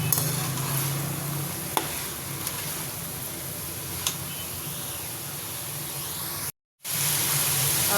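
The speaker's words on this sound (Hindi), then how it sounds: "इनको भी 1 मिनट के लिए भून लेते हैं।" Carrots frying in a pan for chicken macaroni, a steady broadband sizzle with occasional soft stirring scrapes, close and fairly loud, cut by a brief silent gap near the end.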